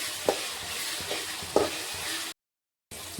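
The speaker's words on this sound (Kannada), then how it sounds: "ಈ ಟೊಮೊಟೊ ಇವಾಗ ಫುಲ್ ಮೆತ್ತಗಾಗೋ ತನಕ ನಾವು ಫ್ರೈ ಮಾಡ್ಕೋಬೇಕಾಗ್ತದ್ರಿ" Tomatoes frying in a pan for paneer gravy, a steady close sizzle punctuated by a couple of sharp spatula clinks and stirring scrapes, then a brief abrupt silence before the sizzle resumes.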